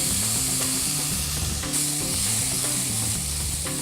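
Onions, celery and green onions are stirred while sautéing in a pan for mushroom risotto, a steady close sizzle with repeated rhythmic spoon scrapes and no talking.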